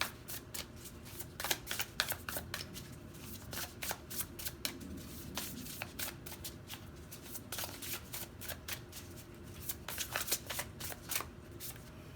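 Tarot cards being shuffled and drawn during a pick-a-card reading, a steady run of crisp riffling flutters and sharp snapping slaps repeating close up throughout, with no talking.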